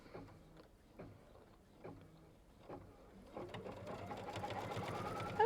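A sewing machine stitches a line on quilt fabric, quiet at first with a few short separate bursts, then settling into a continuous, gradually louder run of rapid needle strokes.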